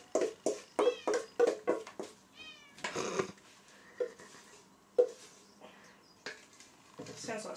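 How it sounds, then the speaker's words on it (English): Several quick cat meows in a burst, then scattered further meows and faint kitchen noises, near and clear, with brief soft voices in between. "Shush, cat."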